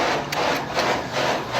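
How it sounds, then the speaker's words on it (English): Grain drag auger, retrofitted and powered by a motor, runs with a continuous rough scraping and rasping churn, close and fairly loud with a faint pulsing rhythm. "The drag auger's running."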